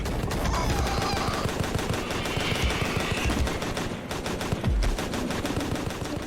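Impaler weapon in Crashland firing at the Electrodon in rapid, continuous bursts of sharp shots like machine-gun fire, loud and close, with brief heavier thuds mixed in.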